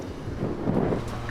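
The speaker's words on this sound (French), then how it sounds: "Pas mal de vent, vous le voyez aujourd'hui." Wind buffets the microphone at an outdoor concrete industrial site near rail tracks, a steady low rumble that swells slightly midway, with no talking.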